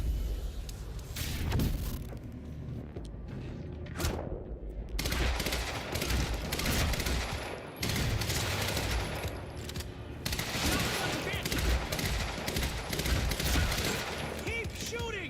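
Sustained automatic gunfire in Quantum Break, dense bursts of shots repeating nearly continuously over fifteen seconds, with a brief lull early on, loud and close.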